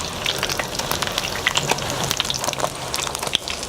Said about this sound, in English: you can tell when it's ready because it will start to sizzle like this